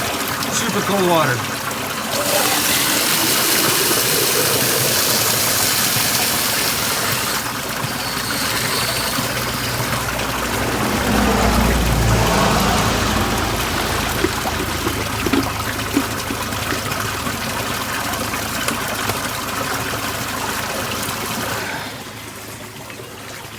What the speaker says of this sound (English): About to fill up my water. I got a 5-gallon jug and a 1-gallon jug of water.